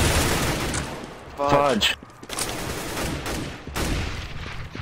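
Gunfire in the video game CS:GO crackles in dense, rapid bursts, loud and close, with a sharp pause midway and a person talking over the shots.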